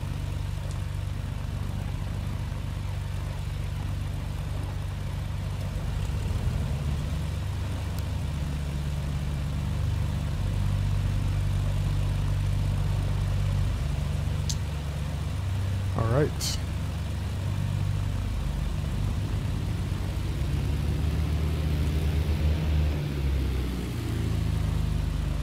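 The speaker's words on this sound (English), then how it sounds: "Next, we'll move over to the left engine." A BN2 Islander's left piston engine runs steadily in Microsoft Flight Simulator, a constant low rumbling drone that fills the clip and builds slightly after the first few seconds, with a brief higher whine partway through.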